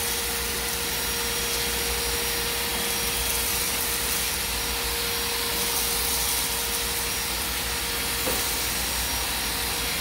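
Vacuum cleaner running steadily while cleaning a chinchilla cage, a continuous broadband hiss and whine with a steady tone, close and loud throughout with no pauses.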